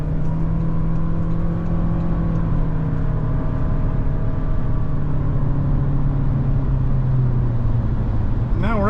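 A steady engine drone with a rising whine that pulls higher as a 2023 Toyota Corolla Cross XSE Hybrid accelerates onto a highway, heard from inside the cabin with a constant road rumble beneath.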